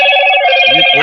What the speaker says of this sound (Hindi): इसका फोन बजा है